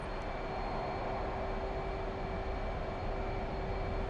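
F/A-18 Hornet jet in DCS, engines run up to full afterburner on the runway: a steady, loud, dense roar with a faint tonal hum, sustained without break and alone.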